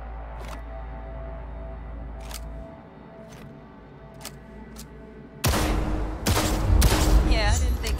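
Gunshots in Cyberpunk 2077: a few sharp single shots spaced apart over a low hum, then louder rapid firing at the end, close and punchy.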